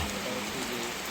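Steady monsoon rain falls over the Sundarbans, a continuous dense hiss of drops on surfaces with no break across the short stretch.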